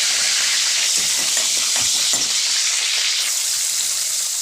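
Prawns and garlic frying in hot oil give a loud, continuous sizzling hiss, steady throughout with faint crackles underneath and no talking.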